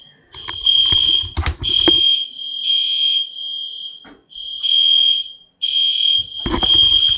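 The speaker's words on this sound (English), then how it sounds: "I end up having a fire alarm" A fire alarm sounds in repeated loud, steady electronic beeps, each lasting around a second with short gaps, joined by a few knocks and thumps nearby.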